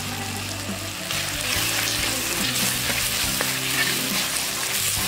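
Tomatoes sauté in a pan with curry leaves and salt, giving a dense, continuous sizzle over a low steady hum, with no voices.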